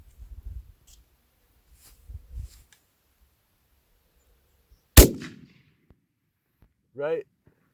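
A single loud shot from a PolyTech Type 81 rifle fired outdoors off a rucksack rest, one sharp crack with a short decaying tail, preceded by faint low thumps and followed later by a brief voice.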